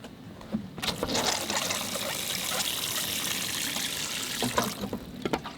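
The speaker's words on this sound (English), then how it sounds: "I feel like I should water these things too." Water pours and trickles onto plant trays in a garden while potting up, a soft steady splashing stream that starts abruptly and runs close to the microphone before tapering off.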